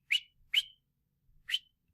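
Three short, sharp whistles, quick upward chirps close and loud, the first two close together and the third after a pause.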